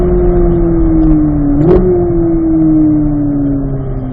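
Car engine held at a steady loud hum, then a quick rev blip as it downshifts to third gear, followed by a smooth, slowly falling engine tone.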